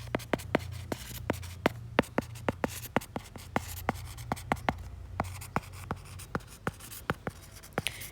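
Chalk or marker strokes on a board come in quick taps and short scrapes, many sharp ticks in an uneven writing rhythm over a steady low hum, close and fairly clear with no talking.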